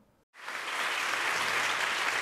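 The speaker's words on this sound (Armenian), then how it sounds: "Հոտնկայս ու բուռն ծափահարություններով ընդունեցին նոր ընտիր և Լիոնի առաջին հայ քաղաքապետին" After a brief hush, a hall erupts into sustained, dense applause as a standing ovation greets the new mayor of Lyon, the city's first Armenian mayor, with the clapping holding steady and full.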